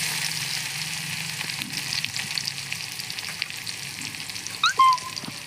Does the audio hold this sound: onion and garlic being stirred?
yes